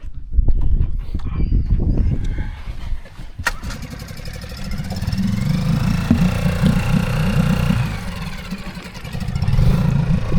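A brand new dinghy outboard motor on a boat at an island anchorage: a few rapid rope-pull cranks, then the engine catches and settles into a loud, steady idle close by.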